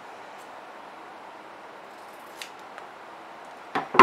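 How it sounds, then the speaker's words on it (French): Scissors cut fabric for a clear plastic pouch in a couple of brief, close snips near the end, after a stretch of faint room hiss. "et je vais découper mon tissu."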